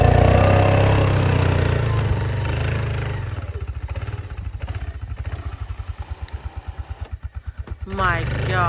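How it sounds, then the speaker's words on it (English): A four-wheeler ATV engine runs through snow off grid, a close rumbling drone that settles into a rapid pulsing putter, with a voice speaking over the start. "So the four-wheeler is actually working well."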